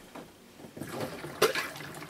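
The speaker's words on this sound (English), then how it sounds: "And all the water flows out of the tub and down a drain." A portable washing machine drains water out of its tub, giving a soft, close trickling and gurgling flow with a brief louder splash partway through.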